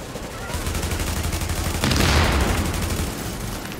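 Gunfire in Tom Clancy's The Division video game as players shoot at an enemy, a rapid burst of automatic shots swelling into a louder, denser volley midway, fairly close but moderately quiet.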